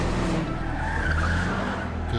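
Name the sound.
cars screeching tires in TV show Stranger Things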